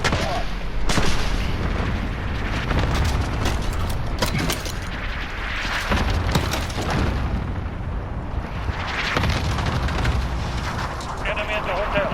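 A cluster strike in Call of Duty: Modern Warfare multiplayer unleashes a dense barrage of booming explosions, heavy and continuous, rumbling for several seconds with radio chatter and a player's voice over the blasts.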